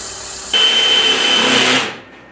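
A DeWalt DCD998 hammer drill bores into wood, jumping from a low idle to a loud, steady high-pitched whine for over a second before spinning down and fading out.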